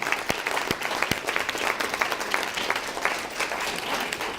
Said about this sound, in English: Let's give our guitarist a round of applause.